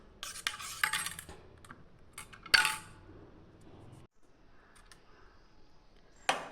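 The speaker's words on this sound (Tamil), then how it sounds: "பெப்பர் தூள் போட்டு கலக்கியாச்சு" Metal spoon clinking against a glass while stirring pepper powder into cluster bean juice, a few sharp taps and scrapes at the start and middle, then quiet, with one last clink at the end.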